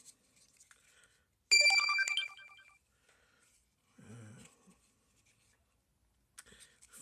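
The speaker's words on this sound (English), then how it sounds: "Phone going off." A phone ringtone goes off abruptly, loud and bright with quick melodic tones for about a second, then fades out. Faint handling clicks and a short low thud follow in an otherwise quiet room.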